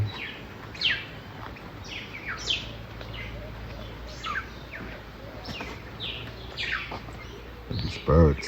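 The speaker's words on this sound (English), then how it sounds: "These birds." Several birds chirp and tweet in a rainforest on an island in the countryside, short bright calls scattered throughout over a steady low background hum, with a louder burst near the end.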